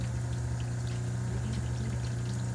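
Cold tap water runs steadily while dentures are rinsed beneath it, a continuous close hiss and splash with no break, heard alone.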